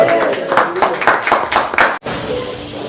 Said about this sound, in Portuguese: Se assentem, aplaudindo, dando glória a Deus